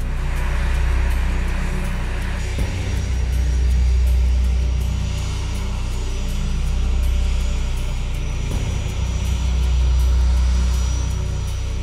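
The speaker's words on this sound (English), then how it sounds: "the U.S. Air Force uses aircraft like the A-10 Warthog to provide close air support to ground personnel." An A-10 Warthog close air support jet flies past with a steady, loud, broad roar and an underlying low hum that gently swells and fades, with no voices.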